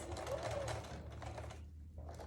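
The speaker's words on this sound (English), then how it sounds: "I like to just go slowly when I'm making this curved piecing seam" A sewing machine runs slowly through a curved quarter-inch piecing seam on a quilt, a quiet rapid needle clatter close by with a brief voice at the start.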